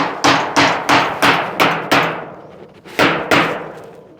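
A hammer drives nails while a small hut is being roofed, landing about eight close, sharp blows in a steady rhythm, with a short pause before the last two strikes.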